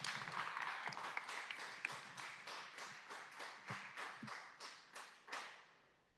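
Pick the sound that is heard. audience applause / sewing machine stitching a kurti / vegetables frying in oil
audience applause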